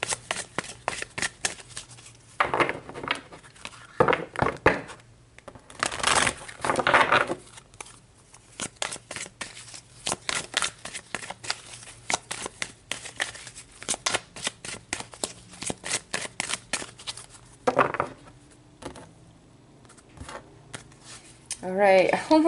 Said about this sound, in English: So let's pull some more cards before I comment too much on that.